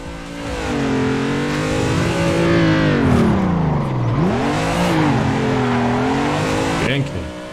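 A BMW drifting on a Vice City track in Assetto Corsa snarls loudly as its engine rises and falls, dipping sharply midway before revving back up and cutting off near the end.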